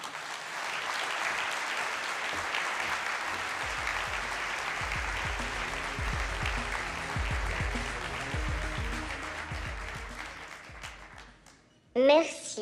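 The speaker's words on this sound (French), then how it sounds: "on les applaudit très fort" An audience at a manufacturing innovation forum in Quebec applauds loudly and steadily for about eleven seconds, the clapping fading out before a voice begins speaking at the end.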